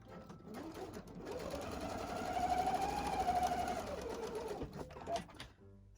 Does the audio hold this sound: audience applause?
no